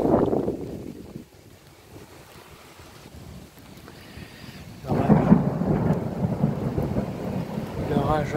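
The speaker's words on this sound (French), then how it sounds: "L'orage avance petit à petit." Thunderstorm rolling in over Meyzieu with gusty wind and returning rain; low rumbling thunder swells at the start, fades, then a louder, broad roll of thunder builds from midway and carries on to the end, with no talking.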